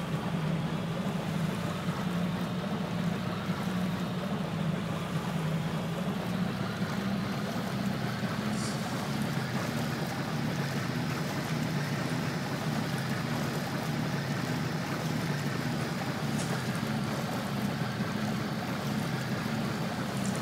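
A boat engine drones steadily over rushing water in the Far Cry video game, a continuous dense roar of motor and spray with no pauses and no talk.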